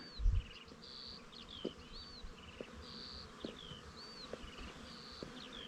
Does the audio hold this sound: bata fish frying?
no